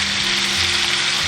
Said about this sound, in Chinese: 然后翻拌均匀，炒出酱香味